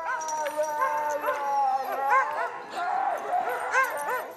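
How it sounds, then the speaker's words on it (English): Sled dogs in a kennel yard in Deep Creek, Maryland, bark, yip and whine excitedly while being harnessed, many overlapping close calls in a constant chaotic chorus. "it starts in the dog yard watching how excited the dogs get"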